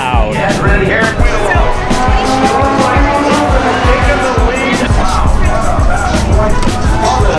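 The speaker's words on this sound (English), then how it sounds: "This is the Miata's race, I believe." Mazda Miata race cars roar past at Mazda Raceway, with loud, continuous engine noise, tire squeal and a crowd murmuring in the background.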